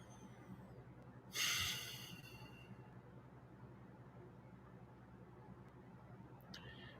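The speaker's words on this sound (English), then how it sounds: "let's all get a big breath" A single deep breath taken close to the microphone to open a meditative pause before prayer, one loud rushing burst that fades into a quiet room hum.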